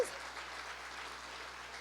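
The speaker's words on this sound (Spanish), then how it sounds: "¿Cuánto dan un aplauso por eso?" Church congregation applauding during a family worship service, a steady broadband clapping wash that holds at an even level across the short stretch without speech over it.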